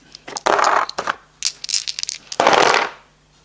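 Several dice clatter and tumble across a table in quick bursts, rattling in two or three separate throws close by during a tabletop game.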